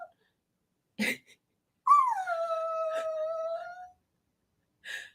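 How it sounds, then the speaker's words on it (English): A dog whines and howls in one drawn-out, wavering cry lasting about two seconds. A couple of short yelps or sniffs come before it and one comes after, all close and loud in an otherwise quiet room. "This dog, man."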